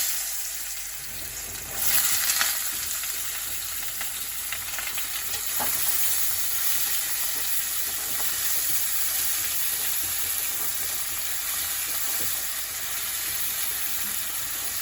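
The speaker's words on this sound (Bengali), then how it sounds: "এরকম ছোট ছোট ডুমো ডুমো কেটে রাখা আলুগুলি এই তেলে দিয়ে দিলাম" Diced potatoes tipped into hot oil with a dried chilli tempering give a bright burst at first, then settle into a steady, close, even sizzle that hisses on without a break.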